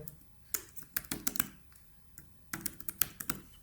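Light tapping on a computer keyboard as a search is typed in two short bursts separated by a pause, close and quiet, with no talking.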